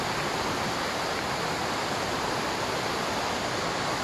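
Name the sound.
flowing mountain stream water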